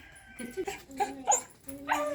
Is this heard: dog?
yes